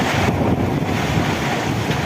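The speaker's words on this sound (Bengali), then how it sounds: "অনেক বাতাস বৃষ্টি হতেছে" Strong, steady wind roars and buffets the microphone, a dense rushing noise with no pauses; rain is mixed into the constant wash as trees are being damaged.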